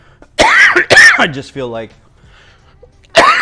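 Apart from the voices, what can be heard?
coughing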